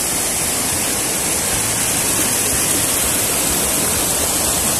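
Rain-swollen water rushes down over stones at Olho d'Água nos Picos, a loud, continuous, close hissing roar with no other sounds.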